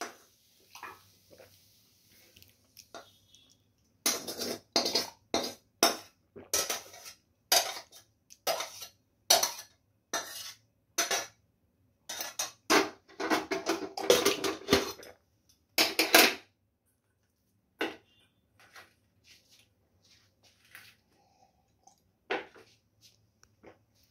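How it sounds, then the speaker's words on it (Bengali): Cooked potato and pea curry slides and splats out of a pan in a run of soft wet squishes and scrapes, close and quiet, with quieter scattered clinks before and after. "হয়ে গেছে দেখুন, আমি এবার ঢেলে ফেলছি।"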